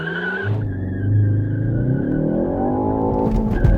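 A manual Ford Focus ST accelerates hard with its engine note climbing steadily. It is flat-shifted on full throttle, giving a brief tire-squeal-like skid before the revs rise again, loud and close with no talk.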